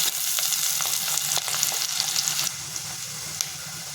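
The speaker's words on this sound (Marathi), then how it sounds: "तेल छान गरम झालेले आहे मी कांदा परतून घेते त्याचे रंग बदलेपर्यंत आपल्याला ते परतून घ्यायचे" Onion sautés in well-heated oil, producing a dense, close sizzle with scattered spatter crackles and stirring scrapes that drops noticeably quieter about halfway through; nobody talks.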